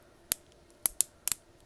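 The ab crunch joint of a Marvel Legends Big Time Spider-Man action figure gives several sharp, close plastic clicks, some single and some in quick pairs, irregularly spaced over a quiet background.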